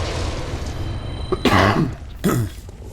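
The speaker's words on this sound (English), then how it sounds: "Coughing a lot." A person coughs in two harsh, close bursts, the second shorter, over a steady background hum with no talking.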